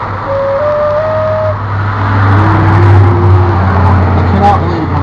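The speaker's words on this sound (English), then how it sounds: "I cannot believe how many cars are going by." Cars driving past on a nearby road, a continuous low traffic rumble that rises and falls steadily, with a person talking over it.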